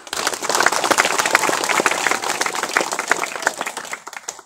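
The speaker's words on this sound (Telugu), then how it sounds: "మనందరం కలిసి గట్టిగా క్లాప్స్ కొట్టి అభినందిద్దాం" An audience at a World Indigenous People's Day village celebration breaks into loud, sustained clapping to congratulate someone, a dense burst of many hands that holds steady and then tapers off at the end.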